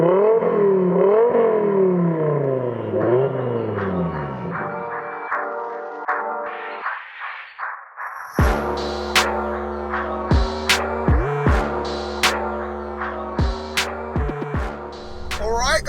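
A 689bhp front-wheel-drive Ford Focus RS Mark II engine revs up and down in repeated sweeping pulls, then settles into sharp blips and throttle stabs with a whirring clatter, heard up close and alone.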